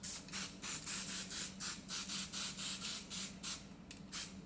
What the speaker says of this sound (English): hit it with a little spray on the outside.